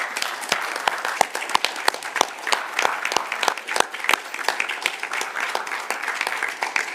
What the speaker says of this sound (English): So if we could give a round of applause for these two gentlemen.